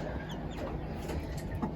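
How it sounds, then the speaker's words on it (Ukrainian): Soft, low clucking from a broody hen among faint peeping Wyandotte chicks, a steady murmur of poultry sounds close by with no talking. "Це наша квочка вивела віандотиків"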